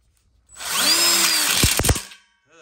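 A power drill drives a screw into a ConnecTubes joint on an outdoor kitchen diagonal corner module, one close, loud whirring burst lasting about a second and a half that rises in pitch, then cuts off.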